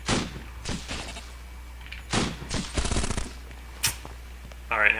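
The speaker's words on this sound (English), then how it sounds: "we can hit him from here with our Gauss cannon" A Gauss cannon firing in the roguelike game POLYBOT-7, sharp sci-fi shot and impact bursts in several clusters, some rapid and rattling, others single cracks, with a ringing electronic tone near the end.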